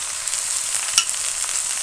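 Chopped bottle gourd and potato hit hot oil tempered with a dried red chilli and sizzle loudly and steadily, with a brief sharper crackle partway through. The sound is close, and nobody talks.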